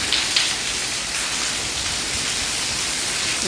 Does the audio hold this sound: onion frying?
no